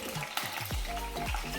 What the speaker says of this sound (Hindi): और अब मैं इन ग्रीन चिलीज को इसमें फ्राई कर लूंगी